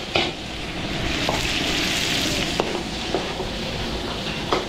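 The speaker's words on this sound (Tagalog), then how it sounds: "Okay, yan lang natin pumula itong bawang sibuyas natin." Garlic and onion sauté in a hot pan with a steady, loud sizzle, broken by a few short clinks and scrapes of a utensil stirring.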